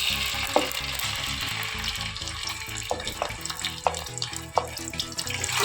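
Whole spices and ginger garlic paste crackle and hiss in a hot pan at the start of a beef keema, a steady close sizzle with scattered sharp pops.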